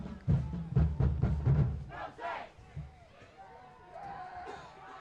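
Spectators fill the packed home stands at a St. Clair high school football game, a loud roar of crowd noise and shouting that swells early, then fades into scattered chatter and a lower, distant hum.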